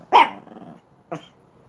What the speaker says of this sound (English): Hey, where are you barking at? Stop barking.